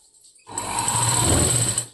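A sewing machine stitching a boat neck blouse starts after a brief quiet moment, then runs as a steady, close whirring hum for over a second before easing off near the end.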